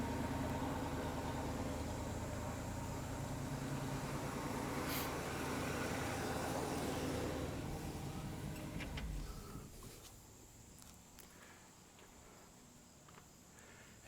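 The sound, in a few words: 1965 Pontiac Bonneville 389 V8 engine idling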